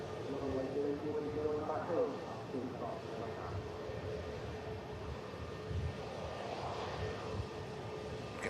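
A Ryanair airliner inbound to Manchester Airport roars steadily overhead on its second landing attempt, a broad continuous engine rumble lasting throughout with people talking over it.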